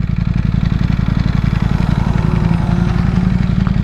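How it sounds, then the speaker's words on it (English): A 1000cc motorcycle is ridden through twisty roads, its loud, close engine holding a steady, throbbing drone the whole time. "D is taking the bike through some twisties"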